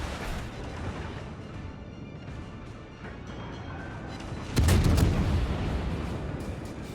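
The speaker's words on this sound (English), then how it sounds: "I didn't even realize Alabama was shooting at me." Heavy battleship artillery salvo in the naval combat game World of Warships, a loud booming burst after several seconds of steady rumbling battle ambience, with no talk.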